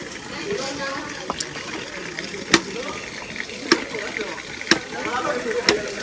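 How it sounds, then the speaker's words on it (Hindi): Water trickles and gurgles steadily from a natural drain hole fed by a stream on a forest trek near Muthyala Maduvu, close by, with occasional sharp clicks and knocks over the flow. "यहाँ पर से पानी का साउंड"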